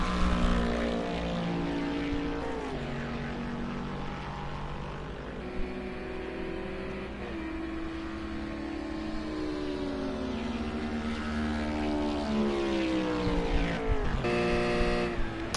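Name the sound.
GT4 race car engine at Daytona Road Course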